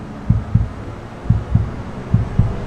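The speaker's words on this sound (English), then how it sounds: "You hear that? Little heartbeat." Slow, steady heartbeat pulses from the cabin of the Mercedes AVTR concept car, paired double thumps repeating about once per second over a constant low hum, no talking.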